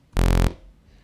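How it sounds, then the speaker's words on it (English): A plain saw wave from the init patch of an Xfer Serum synthesizer plays as one short, loud, buzzy note lasting about a third of a second, then cuts off cleanly. "So it's just a saw wave."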